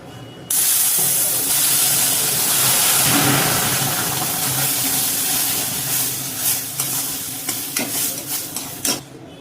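Hot water poured onto roasted semolina for lapsi sets off a sudden loud hiss of sizzling steam that slowly fades, followed by scattered clinks and scrapes from stirring in the pan.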